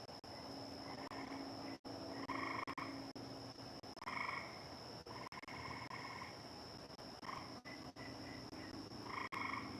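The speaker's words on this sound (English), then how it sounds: "Ooh, there's the frogs. They're back." Frogs croaking outdoors in a steady chorus of repeated raspy bursts over a constant background drone, fairly faint and distant, with no talk.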